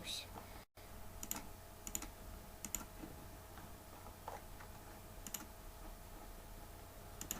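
Computer keyboard typing comes in sparse, irregular bursts of light clicks, fairly faint and close over a steady background hum.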